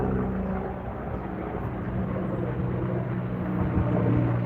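A military aircraft flies overhead near a Newport News beach, giving a loud, steady low roar that holds throughout with no talk.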